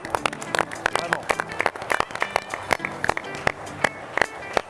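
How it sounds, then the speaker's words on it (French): An audience at the Nutella Academy dessert contest applauding, brisk irregular claps from a small crowd, fairly close and steady throughout. "je voudrais qu'on applaudisse encore Clotilde parce que c'est vraiment super"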